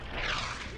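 A mortar shell bursts in the Brothers in Arms video game, a short loud broadband boom lasting under a second.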